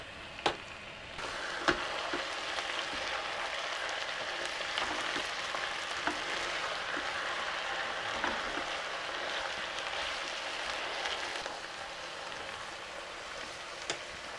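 Beef browning in a pot for a butter beef curry, pressed down rather than stirred, giving a steady close sizzle with a few sharp pops.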